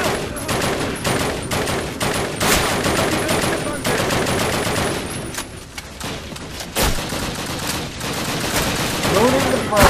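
Call of Duty video game gunfire crackles loudly in sustained automatic bursts and scattered single shots across the whole stretch, with a few heavier thumps mixed in.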